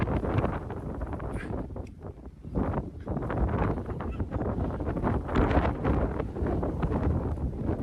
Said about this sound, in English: it was not this windy this morning, was it?